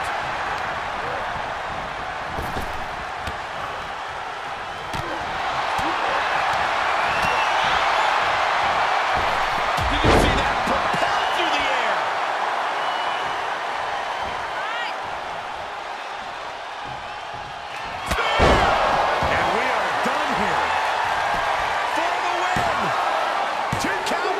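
Pro wrestlers trade forearm strikes in a tournament ring match, with a few sharp slapping impacts standing out over a steady crowd murmur and commentary, the biggest hits landing around the middle and near the end.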